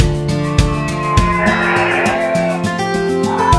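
Black-and-white Belgian Blue cattle let out a loud, close, drawn-out moo with a deep tonal drone and a few rhythmic knocks underneath, and no one speaks.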